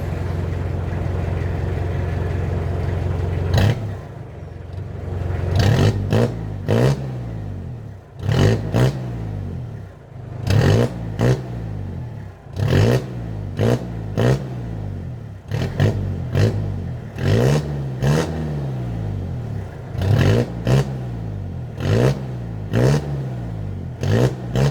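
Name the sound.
Mitsubishi L200 pickup revving with Borla Pro XS exhaust, muffler tip removed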